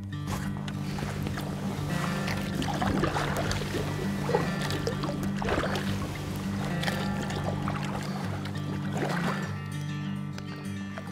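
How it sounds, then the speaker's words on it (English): A Jackson Kayak Tupelo 12.5 kayak paddled on open water on a spring evening, with rhythmic paddle strokes splashing and dripping at close range over a steady low hum, no talking. "I'm going to do a bit more paddling around and see if anything pops to mind."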